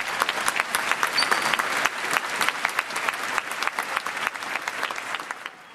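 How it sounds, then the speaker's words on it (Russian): Wedding guests applaud in a lively burst, crisp individual claps standing out from a dense crowd of clapping hands, fairly near and sustained before thinning slightly at the end. "Я думаю, что эти аплодисменты прозвучали для Марфа и Серафима"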